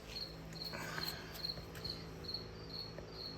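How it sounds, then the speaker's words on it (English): Crickets in a garage chirp in a steady, evenly spaced rhythm, high-pitched pulses repeating against a quiet background hum. "Now I've got crickets in the garage"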